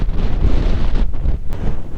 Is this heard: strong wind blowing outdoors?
yes